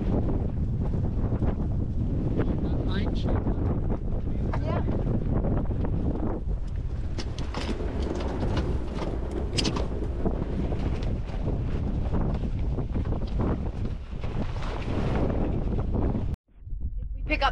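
Strong wind buffets a sailboat heading into the wind near a mooring, a loud, continuous roar against the microphone that cuts out abruptly near the end.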